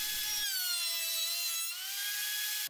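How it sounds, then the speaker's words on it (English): A thickness planer surfaces a glued-up wooden cutting board, a loud steady high-pitched whine of cutter and motor that holds at full strength across the pass, dipping slightly in pitch midway, with a brief low rumble at the start. "next step is run it again on the thickness planer"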